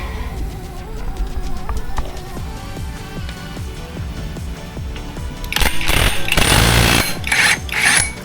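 A power tool works loose a screw on an ATR 160 pulley, first with rapid rattling hammering pulses, then a louder, harsher burst of close whirring and clatter near the end.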